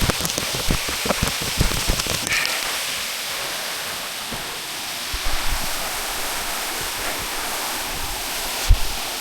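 A mountain waterfall at Sasso Simone in Italy, a steady dense rushing of falling water with scattered knocks and handling bumps near the start and a sharp tap near the end.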